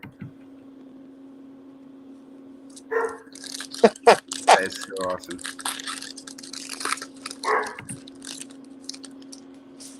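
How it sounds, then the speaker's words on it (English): Dog barking in the background of an indoor live stream, a few short sharp barks spread over several seconds, with a person talking nearby and a steady electrical hum underneath. "Sorry about the dog."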